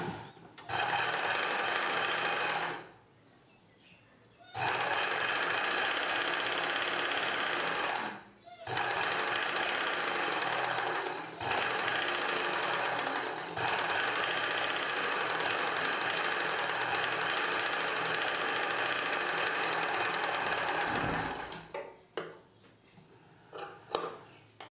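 A sewing machine runs close and steady while stitching the back belt piece of a blouse, in long continuous runs broken by a few brief stops.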